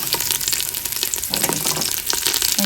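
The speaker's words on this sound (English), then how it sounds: "I just want to brown it on all sides." Ground meat browning in a pan over medium heat for spaghetti sauce, a steady close sizzle and crackle running throughout with brief stirring scrapes and no voices.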